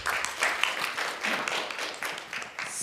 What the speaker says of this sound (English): So please welcome Professors Kudo and Choi with a round of applause.